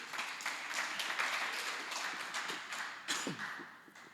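Church congregation applauding during an Easter Sunday service, a sustained round of clapping lasting about four seconds with a quick swell near the end.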